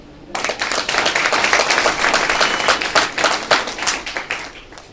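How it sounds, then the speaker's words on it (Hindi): Loud, dense applause from an audience in a hall at a direct-selling event, a sustained wash of many hands clapping that swells in and carries on steadily for several seconds. "ताली होंगी।"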